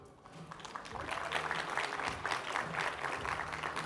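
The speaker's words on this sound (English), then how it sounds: "You guys can clap." An audience applauds at a women's voting town hall, a dense, steady wash of clapping that swells after the first half second and holds evenly to the end.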